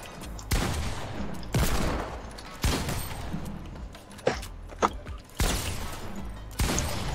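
Loud bursts of video game gunfire, several separate volleys of rapid shots with short pauses between them, heard almost alone with no voices.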